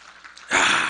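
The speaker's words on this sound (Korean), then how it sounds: "우리 성령 하나님께 한번 감사의 박수 드리겠습니다" A church congregation bursts into applause during a sermon, the clapping starting abruptly midway after a quiet, murmuring moment and continuing loud and full.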